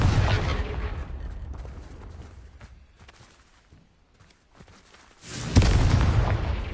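The Confringo explosive spell is cast in the video game Hogwarts Legacy, with two loud, booming blasts, one at the start and one near the end. Rumbling decay and scattered debris crackle fill the quieter stretch between them.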